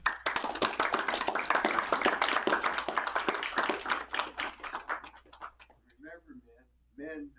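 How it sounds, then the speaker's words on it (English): Attendees at a memorial service clap together in a steady burst of applause that fades out over several seconds, followed by a few quiet voices speaking. "I'm going to applaud you."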